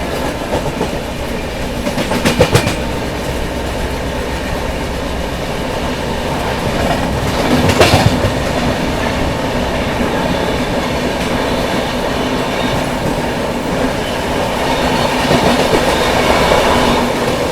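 The Gatiman Express races at high speed through Raja Ki Mandi station, a loud continuous rumble with rhythmic wheel clatter and occasional sharper rattles from the cars, heard from aboard with no voices.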